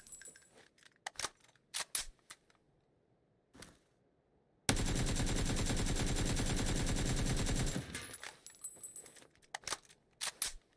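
Sustained automatic gunfire from a weapon during a recoil test in the video game PUBG on console, a loud continuous burst of about three seconds between scattered single shots and clicks.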